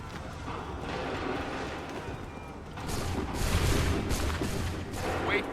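Musket volley in Assassin's Creed III, a dense burst of overlapping gunfire and rumbling booms that rises halfway through over a noisy battlefield background.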